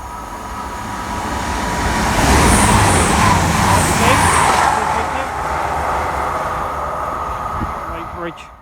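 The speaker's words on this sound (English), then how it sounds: "We've got a Class 222 Meridian coming through platform 1 at Loughborough station going north" A Class 222 Meridian diesel train runs north through platform 1 at Loughborough station, a broad rumbling roar that swells to a loud peak midway, then eases and drops away at the end.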